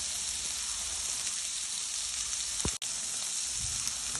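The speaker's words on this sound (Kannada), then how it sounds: "ಇವಾಗ ಇದು ತೆಕ್ಕೊಂಡು ಇದ್ರಲ್ಲಿ ಪನ್ನೀರ್ ಹಾಕಿ ಅದನ್ನು ಫ್ರೈ ಮಾಡ್ಕೊಳ್ಳೋಣ" Paneer fries in ghee in a pan for kadai paneer, a steady close hiss of sizzling that runs evenly, interrupted once by a single sharp click.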